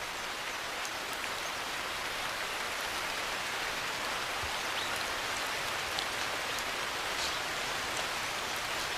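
Heavy monsoon rain falls on an Indian rainforest as a dense, unbroken hiss of drops, loud and even throughout, with scattered sharper patters on leaves.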